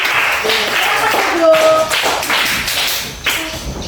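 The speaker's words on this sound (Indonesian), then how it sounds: "sekali lagi tepuk tangan untuk kelompok" A classroom group claps in a steady burst of applause, fairly close, with people talking over the clapping.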